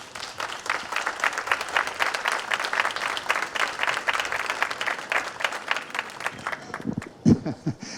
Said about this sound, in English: I think that should get a round of applause for all your hard work